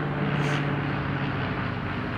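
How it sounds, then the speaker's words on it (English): Two propeller airplanes passing overhead in formation above a house, a steady continuous engine drone at moderate distance, holding even throughout with no talking. "Look at these two planes like flying in formation over the house."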